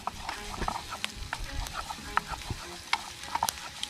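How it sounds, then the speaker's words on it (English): Jerk seasonings sautéing outdoors for shrimp pasta, a steady close sizzle broken by frequent clicks and scrapes of a stirring utensil, with no talk. "so right now saute up the seasons"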